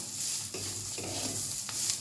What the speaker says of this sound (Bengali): ডালটা আমি হালকা করে ভেজে নেব, বেশি কড়া করে ভাজবো না